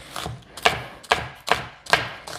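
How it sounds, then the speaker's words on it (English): A knife chops a quarter of an onion into small pieces on a cutting board for fruit salsa, with five or six crisp, evenly spaced strokes, close and clear. "I'm cutting it pretty small"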